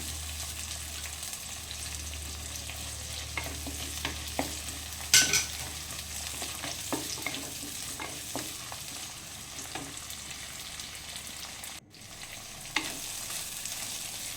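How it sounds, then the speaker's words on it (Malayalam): Chicken gravy with curry leaves is stirred in a pan: a steady low sizzle and bubbling runs throughout, with soft scraping and clinks of a spoon against the pan at a close distance. "കുറച്ച് കറിവേപ്പിൻ്റെ ഇലയും കൂടി ഇട്ട് കൊടുക്കാം എന്നിട്ടൊന്ന് മിക്സാക്കി കൊടുക്കണം"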